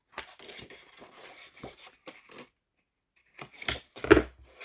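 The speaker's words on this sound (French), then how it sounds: "je prends une paire de ciseaux et là, je coupe les coins" Scissors cut the corners of paper while making a handmade scrapbook mini album with envelopes: a few close, crisp snips and rustles, a brief pause, then a louder cluster of cuts and paper handling.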